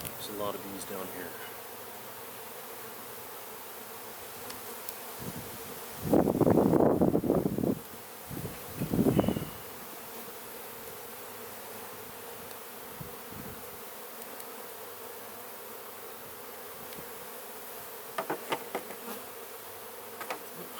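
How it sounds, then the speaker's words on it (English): Honey bees swarming densely around an open hive, a continuous close buzzing hum with individual bees droning louder as they pass near, over faint rustling and brief handling noises. "There's a lot of bees down here."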